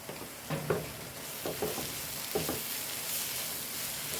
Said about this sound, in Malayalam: ശേഷം ഗരം മസാല നല്ലോണം ഇളക്കി കൊടുക്കട്ടെ